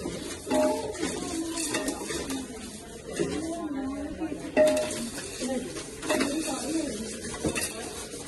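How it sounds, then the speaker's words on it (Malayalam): Broken long vermicelli being stirred in hot ghee in a pan until golden, with repeated scraping and clinking of the spoon against the metal and a soft sizzle beneath, loud and close throughout. "ഇതും ഒരു ഗോൾഡൻ കളർ ആകുന്നിടം വരെ നമ്മള് ഇളക്കണം"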